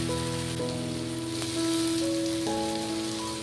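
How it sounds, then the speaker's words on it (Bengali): Chopped tomatoes fry with onions and ground spice paste in a pan for a Bengali jackfruit (echor) curry, giving a steady, close sizzle and crackle of oil under faint tonal background music. "টমেটোটাকেও বেশ ভালো করে নেড়েচেড়ে কিছুক্ষণ ভেজে নেব"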